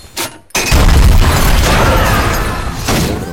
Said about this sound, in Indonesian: Termasuk Jack menyalakan ledakan darurat.